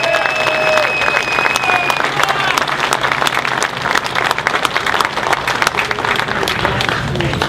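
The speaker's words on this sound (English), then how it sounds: "big round of applause for Skip Murphy" A crowd at an outdoor rally applauds a speaker being introduced, with loud, sustained clapping and sharp individual claps throughout, plus scattered cheers and a brief whistle near the start.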